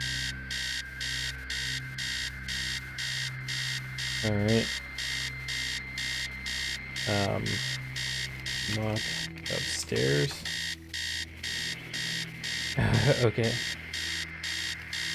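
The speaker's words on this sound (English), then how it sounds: "Stop alarm." Electronic alarm in the video game Stories Untold, a rapid repeating beeping pulsing in even bursts for the whole stretch, loud and near, while someone talks over it at intervals.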